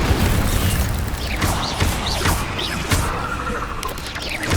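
Incendio fire spell cast repeatedly in Hogwarts Legacy, a dense run of loud fiery bursts, whooshes and crackling impacts layered over continuous combat noise with no pauses.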